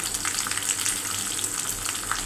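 Curry leaves and asafoetida crackle in hot tempering oil for a chutney, a close, continuous fine sizzle with scattered pops and no talking.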